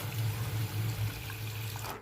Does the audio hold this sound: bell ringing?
no